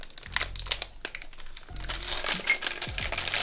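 Plastic packaging from a SmallRig camera rig kit being cut with a knife, giving crinkly, crackling rustles close up in several bursts, with brief pauses and a few low thumps.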